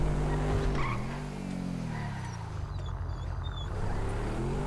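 A Land Rover Defender in the video game GTA V drives with a droning engine whose pitch swings, and a short tire squeal comes through as it skids, close and fairly loud with no talking.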